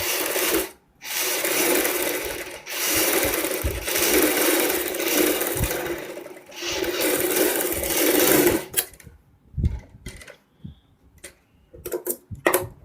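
A sewing machine stitches a fabric piece together with buckram for a kurti or blouse boat neck, running in loud, fast mechanical whirring bursts separated by short pauses, then shorter stops and starts near the end.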